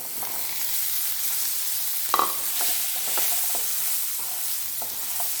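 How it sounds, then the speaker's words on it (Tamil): Cut potatoes stirred into fried masala in a pan for Tamil-style potato fry, giving a steady close sizzle broken by scattered scraping and clinking of the spoon, with no voices. "இப்போது நான் கட் பண்ணி வச்சுருக்க உருளைக்கிழங்கை நான் இதில் சேர்த்துக்கிறேன்"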